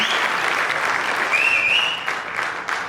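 An audience at a Malayalam film trailer launch for Aashan claps steadily for several seconds, a dense roomful of hands, loud and close.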